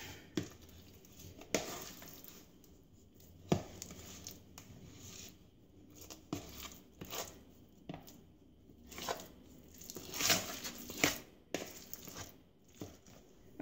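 A celery stuffing filling is mixed and squished by hand, giving quiet close wet squelches and patters in irregular bursts with no talking.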